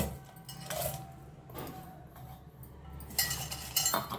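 A spoon clinks against a bowl while onions are mixed for Andhra-style pachi pulusu, a few sharp metallic taps spread over a few seconds against a quiet background.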